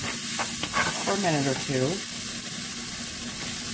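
Flour being stirred into a pan of mushroom gravy base, a soft scraping stir over a steady background hiss, with someone talking over much of it.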